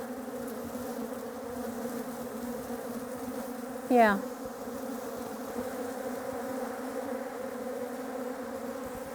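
Bees buzzing in a steady, close drone throughout, with a brief louder rising swell midway as the swarm is disturbed; a single word is spoken faintly.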